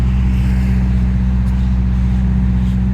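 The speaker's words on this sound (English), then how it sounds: "W12 Bentley." A Bentley with a W12 engine hums loudly and steadily, a deep continuous rumble that holds without revving or clear changes throughout, with no voices over it.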